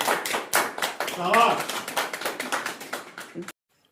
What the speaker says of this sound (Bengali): হাততালি মারো সবাই, হাততালি মারো